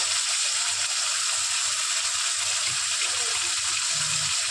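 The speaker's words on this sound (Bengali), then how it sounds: "মশলা কষানোর জন্য একটু জল দেব" Water is poured into spices frying in a pan for egg curry, a loud, continuous hiss and gush that stays steady for the whole stretch, with no voices.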